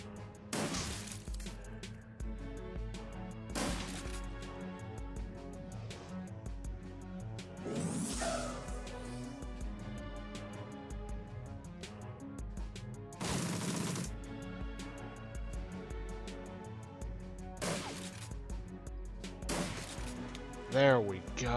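Gunfire rings out at a Typhoon in a Shadowrun: Dragonfall battle, with several sharp shot bursts spaced through a busy game soundscape of music and effects, with someone talking over parts of it.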